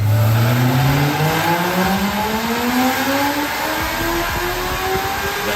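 Chevrolet Corvette C6 V8 engine, LS2 or LS3, revving hard and climbing through the gears in one continuous loud run, with rising engine tones close up and no talking.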